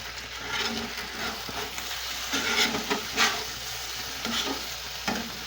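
A restaurant scraper rasps crispy bits off the bottom of a hot pan in repeated short scraping strokes over a soft background sizzle, close and moderately loud.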